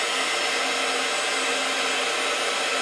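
A heat gun blasts hot air over stamped plastic to shrink it while making Christmas cards, a loud, steady, unbroken blowing roar throughout.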